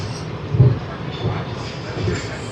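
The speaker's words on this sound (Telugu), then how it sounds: "WAP 7 Rayapuram locomotive." A WAP 7 electric locomotive passing on the Guntur to Repalle line, a steady low rumble of rolling stock with a brief heavier thump, heard from nearby with no clear talk.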